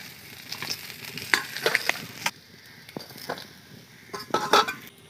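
Small fish frying in a little oil in a pan, with a steady soft sizzle broken by sharper crackles and spatters, and no voices.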